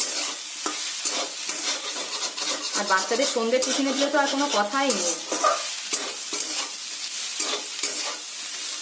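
Street-style chow mein noodles stir-fry in a pan with continuous sizzling and scraping of a utensil against the metal, while someone speaks over the cooking.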